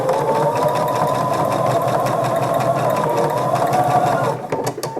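A sewing machine runs steadily for about four seconds, stitching closed the fabric edge of a small keychain coin purse, then stops with a few light clicks.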